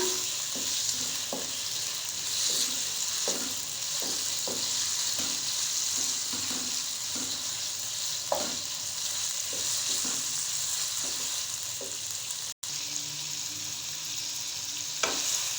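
Chicken fries in oil with a constant close sizzle, punctuated by repeated light clinks and scrapes of a stirring utensil against the pan, no speech.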